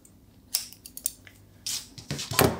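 Scissors snipping a strand of yarn while finishing a pom-pom, a few short close crisp cuts and rustles spread over a couple of seconds.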